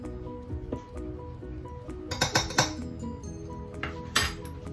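Metal spoon clinking against a bowl while vanilla is added to sugar-free, low-carb ice cream mix; a few sharp, close clinks bunch together mid-way, with another later, over quiet kitchen handling noise.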